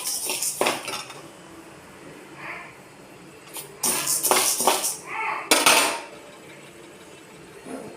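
Roasted idli podi ingredients are moved into a wide pan, producing scattered metallic clinks and scraping clatter of utensils against cookware, with short bursts separated by quieter gaps.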